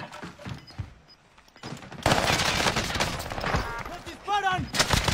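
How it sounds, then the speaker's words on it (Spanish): Gunfire in the video game Warzone: sharp, rapid shots and bursts crackle close by, growing denser in the second half, with brief game sound effects mixed in. "¡Me disparan!"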